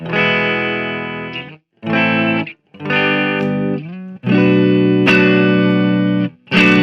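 Heavily distorted Fender Buckethead Stratocaster electric guitar plays sustained chords and notes in several bursts separated by short silences, loud and close.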